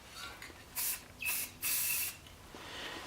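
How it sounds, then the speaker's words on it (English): A spray paint can releases white paint in three short hissing bursts, close and fairly soft, with quiet pauses between them. "I'm gonna spray a little bit of white"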